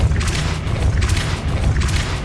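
A Depulso spell in Hogwarts Legacy lands as a short series of deep, booming magical impacts, loud and close, with bursts of crackling debris between them.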